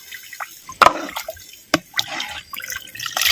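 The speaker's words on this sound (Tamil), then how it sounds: "நல்லா மட்டன் வேகிறதுக்கு 1 லிட்டர் பச்சை தண்ணி சேர்த்துக்கிறேன்." Fresh water is poured into a pot of mutton being cooked for a curry, producing uneven splashes and drips with a few sharp sloshes, close and fairly quiet.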